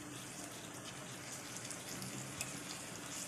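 Sugar syrup is poured over hot kunafa, making a soft, steady trickling wash that runs continuously and faintly for a few seconds with no talk over it.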